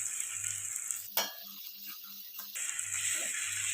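Ground garlic sautéing in a pan with onions for mutton curry, a steady sizzle with a metal utensil stirring and scraping against the pan partway through.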